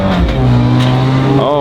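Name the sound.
black Honda NSX car driving past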